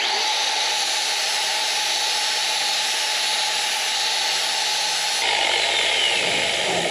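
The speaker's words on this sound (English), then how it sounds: "So we're gonna take a flapper wheel." A flap wheel on a power tool whirs continuously, grinding metal on a 2004 Dodge Ram 2500 with a harsh, gritty noise, steady and close, its tone shifting slightly near the end.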